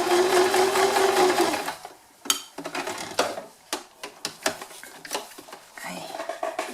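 Sewing machine running a straight seam along the fabric edge, a steady mechanical whir for the first two seconds, then shorter bursts of stitching with small clicks and pauses between them, close and clear.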